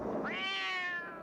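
A cat meows in a movie: one drawn-out, rising-then-falling meow, close and clear, with no talking over it.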